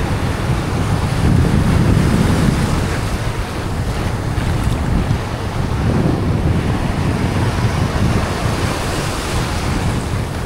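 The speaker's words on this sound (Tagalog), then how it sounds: "Sabayan ako ng alon." Ocean waves surge and wash continuously in a loud, close roar, with gusty wind buffeting the microphone throughout and no speech.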